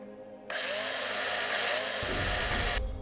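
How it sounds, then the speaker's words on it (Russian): A drill whirs in the video game Breathedge, a sudden loud high-pitched continuous whine that holds for a couple of seconds with a deeper grinding layer joining near the end before it cuts off. "давай подрелим"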